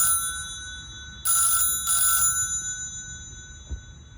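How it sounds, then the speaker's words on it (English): A telephone rings twice for an incoming call during a broadcast viewer call-in segment, two bursts of bell-like ringing close together over a steady tonal background, with no voices. "Dylan, we have a phone call for you from one of our viewers"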